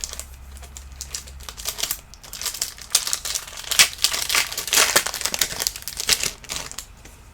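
Foil wrapper of a 2017 Topps WWE retail card pack crinkling and tearing open up close, a dense run of sharp crackles with no voices.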